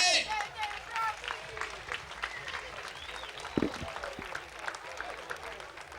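A crowd at a Muay Thai fight night in Quartu Sant'Elena applauds enthusiastically, scattered claps and cheers ringing through the venue with voices shouting over a lively background din.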